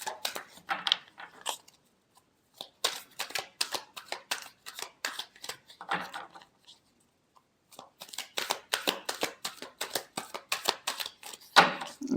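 Tarot cards shuffled by hand in bursts of quick riffling and flicking, close and fairly quiet, with a brief pause midway and no talking.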